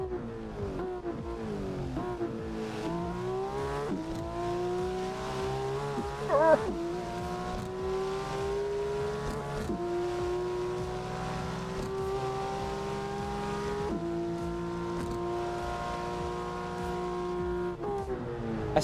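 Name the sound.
Porsche race car engine in the video game Assetto Corsa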